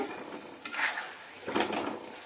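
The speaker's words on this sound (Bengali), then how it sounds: "আর এবারে হাই ফ্লেমেই থাকবে আমার হাই ফ্লেমে এটাকে ভাজা ভাজা করে নেব" Katla fish oil frying in a pan on high flame, a low sizzle broken by two brisk bursts of stirring and scraping.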